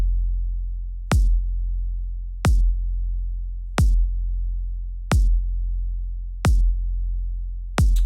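Kick drum and sub bass playing together in a mix: a sustained deep low bass tone under evenly spaced punchy kick hits, about every 1.3 seconds, with no talking.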